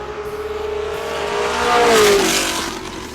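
A 1967 Ford GT40 accelerates hard at speed, its engine note rising in pitch and swelling loudly as it surges past, then easing off with a gear change.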